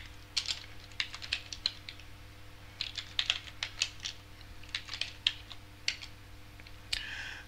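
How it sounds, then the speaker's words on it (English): Typing on a computer keyboard to enter an ethtool command on Linux, with bursts of quick, close, crisp key clicks in uneven runs and short pauses, no voices. "I can type Ethtool and then the name of the NIC."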